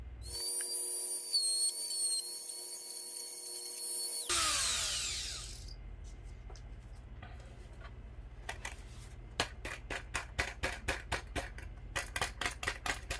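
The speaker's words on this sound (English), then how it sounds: "And then drilling these out right here." A whining motor runs steadily, then drops off into a rapid series of sharp, regular clicking bursts as a small drill works through small parts of a Razor Shimas memory buckle.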